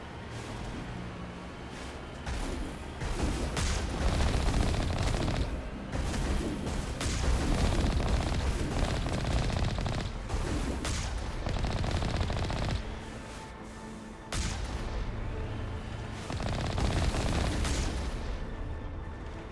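Sustained automatic gunfire with rocket blasts and explosions in the video game Mass Effect, loud and dense for most of the stretch, with a brief lull before resuming.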